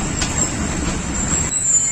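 The Hazara Express running on a single-track line at a station ringed by snowy peaks: a loud, steady close-up rumble of rolling wagons, with a faint high wheel squeal over it.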